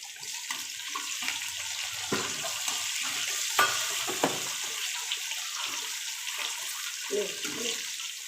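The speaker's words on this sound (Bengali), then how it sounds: "এবার পেঁয়াজটা দিয়ে দেবো, দিয়ে খানিকক্ষণ নাড়তে হবে।" Sliced onions stirred and frying in hot oil with dried red chilli, cumin, bay leaf and garam masala while cooking khashir mangsho, a Bengali goat meat curry; a steady sizzle runs throughout, broken by a few sharp scraping clinks of the spoon.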